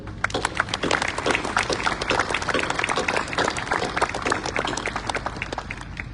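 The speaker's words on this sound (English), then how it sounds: "I'd like to ask you to join me in a round of applause for the dedicated professionals in this garrison" Audience at a U.S. Army Garrison Poland change of command ceremony giving a round of applause, dense close clapping that runs steadily for about six seconds with no voices over it.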